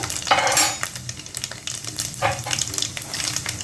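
Ginger paste sizzles and crackles in hot oil with tempering spices, with scraping stirs and a few utensil clinks, fairly close.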